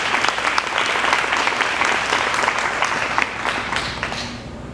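A room full of people clapping steadily for Brian McCall at a community event, dense, even applause held at a strong level throughout without pause.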